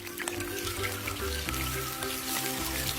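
Marinated pork belly slices frying in hot oil in a pan, a close, continuous crackling sizzle with scattered pops and spatters and no voices.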